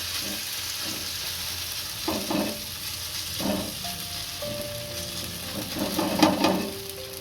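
Potato lachcha pudla batter is poured and spread thin in a frying pan, giving a soft steady sizzle with occasional scraping and stirring sounds, close and fairly quiet, with no speech.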